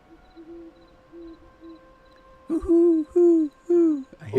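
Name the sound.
owls hooting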